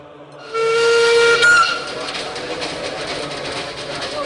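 A Darjeeling Himalayan Railway train whistle sounds loud and sustained, then gives way to the rumbling clatter of rail cars rolling past, with faint voices underneath.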